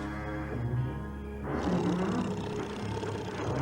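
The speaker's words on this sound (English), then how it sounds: "It was the loudest snoring you ever heard." A cartoon bridge snores with a huge, deep, rumbling roar, loud and sustained, swelling into a second heavier rasping breath, like a giant animal growling at close range.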